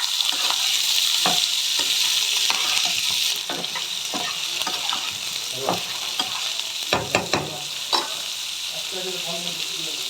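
Okra, capsicum, onion, potato and cauliflower sizzle and crackle in a hot pan while a utensil scrapes and stirs now and then, sharp clatters breaking through the steady frying hiss.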